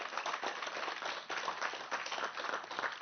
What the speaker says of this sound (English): A big round of applause to all our speakers.